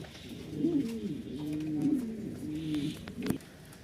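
Pigeons in a breeder's loft, some sitting on eggs, give soft, rolling coos in a few repeated phrases, close and fairly quiet.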